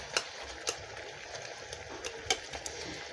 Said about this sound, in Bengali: এটাকে এখন আমি হালকা করে ভাজা কাঠি দিয়ে